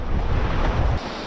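Ocean waves surge against a breakwall, a steady loud roar of surf mixed with gusting wind rumbling across the microphone, easing slightly near the end.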